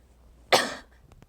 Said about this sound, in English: Coughing for me is a part of my daily life.